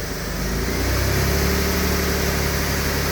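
A Jaguar AJ30 engine, its variable valve timing recently reworked, revs up in a steady rising drone, loud and close for the full stretch with no voices.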